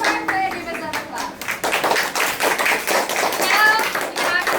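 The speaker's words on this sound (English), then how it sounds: "Give us another clap." Group of children clapping their hands together in a classroom lesson, a dense run of claps through the whole stretch, with bright childish voices chattering and calling out over the top.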